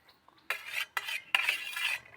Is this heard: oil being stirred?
yes